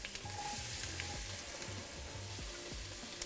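Ginger, garlic and onions frying with mustard seeds in a hot pan give a steady close sizzle, with faint popping and occasional stirring scrapes, no talking.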